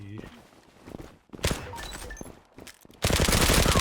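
Gunfire in the Zula online shooter, in short bursts of shots followed by a loud sustained automatic volley at the end, with faint footsteps between the bursts.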